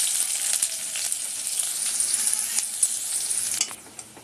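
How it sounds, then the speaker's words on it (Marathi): Chopped onion hitting hot oil in a kadhai for a Konkani cashew curry tempering, giving a steady close sizzle with faint stirring crackles that eases off near the end. "तेल तापलेलं आहे. कांदा आपण फोडणीला घालूया."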